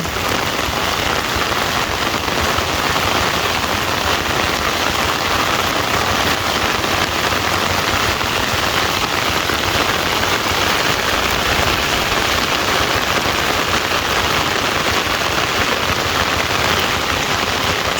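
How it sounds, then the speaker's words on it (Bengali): Heavy rain pours down continuously on farm fields, a dense, steady roar of drops striking the ground with no pauses. "বৃষ্টি হইতেছে"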